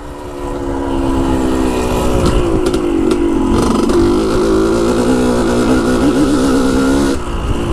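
A dirt bike fitted with a Lectron carburetor accelerates hard in fifth gear on an off-road trail, its engine note loud and close, climbing steadily in pitch with a brief wavering mid-run before easing off at the end.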